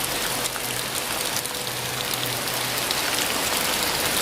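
Heavy rain pours down in a constant dense patter on surfaces, loud and close, with a faint low engine hum underneath at times.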